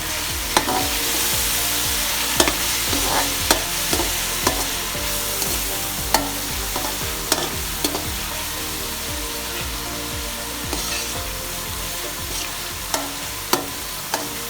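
Chicken yakhni pulao fries in a pot as yogurt is stirred in, giving a steady loud sizzle broken by sharp scraping knocks of the spoon against the pot.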